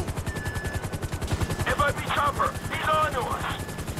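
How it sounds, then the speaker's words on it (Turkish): A helicopter in the GTA 5 video game beats out a steady, rapid rotor thump throughout, while a voice talks over it. "helikopter geliyor"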